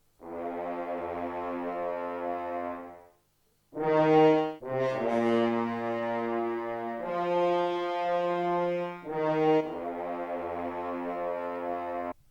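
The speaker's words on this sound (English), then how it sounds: "And after that I added another horn sustain from Sonatino Orchestra," Sustained low orchestral horns hold long, steady notes at a lower octave, shifting pitch a few times, with warm, full resonance and no talking.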